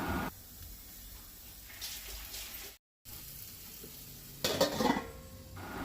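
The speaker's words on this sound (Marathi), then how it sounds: "ती तवो गॅसार दवरून तेजेर भाजूंक घातल्या" Sweet potatoes roasting in oil on a griddle over a low gas flame give a soft, steady sizzle close by, with a brief burst of louder frying crackle near the end.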